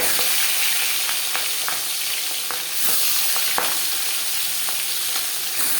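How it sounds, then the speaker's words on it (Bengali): Rohu fish heads sizzle steadily in hot refined oil, with a constant bright frying hiss punctuated by soft pops and occasional stirring clicks, close and loud with no talking. "মাছের মাথা ভেজে নেব"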